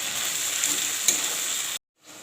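Fried onions with ginger garlic paste sizzle loudly in a pan for chicken potato curry, with a spoon stirring through the mixture before the sound cuts off briefly.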